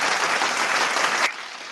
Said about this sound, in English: Can you do that a whole round of applause situation, please?